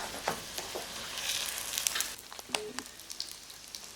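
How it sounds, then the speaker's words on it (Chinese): A zucchini pie fries in a lightly oiled flat pan with a soft, close crackling sizzle and scattered pops and faint clinks. "平底锅里抹一点油，开始摞。"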